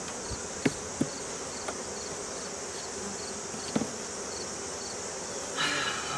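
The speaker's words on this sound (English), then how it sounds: "I gotta get those bees out of that super." Honey bees buzz around an opened hive during a September inspection, a steady close drone of many insects with a few faint knocks and clicks of handling and a brief louder swell near the end.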